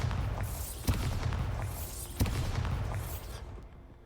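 Two heavy blasts from the Bombarda explosion spell in Hogwarts Legacy, each a sharp boom with a rumbling tail, spaced about a second and a half apart over a dense low game soundscape.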